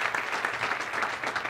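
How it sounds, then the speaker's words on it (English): Crowd applause for the rapper Sacramento Knoxx at a live event, a dense, even wash of clapping that holds steady from start to end. "Clap it up for Knoxx, y'all"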